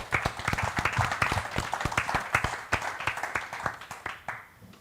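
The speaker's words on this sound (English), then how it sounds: "I think they deserve a round of applause to start up" Audience at a college lounge event applauding, a dense burst of many hands clapping steadily for several seconds before tapering off at the end.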